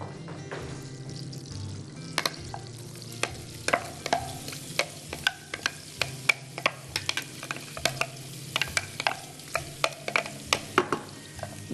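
Onion sizzling in a pan while a utensil stirs and taps repeatedly against the metal, a busy irregular clatter over a steady hiss, close up with no talk.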